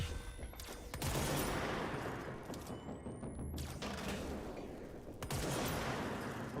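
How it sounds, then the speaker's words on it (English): Heavy gunfire from the video game Control fires in sustained bursts and booms that alternate with short gaps, loud and close, with brief rising electronic whines between volleys and no speech. "Stop shooting at me"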